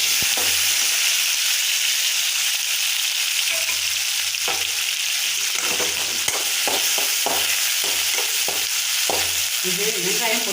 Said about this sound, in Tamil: இது வெங்காயம் பொன்னிறமாகணும்